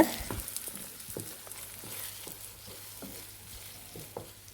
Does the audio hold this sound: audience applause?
no